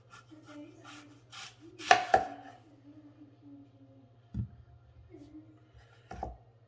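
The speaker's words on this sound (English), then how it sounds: "So first we're gonna go with apples. So we're gonna go here. We're gonna just cut down." A knife cuts through an apple on a board while preparing risotto, with a few distinct, close chopping thuds spaced irregularly over faint background hum.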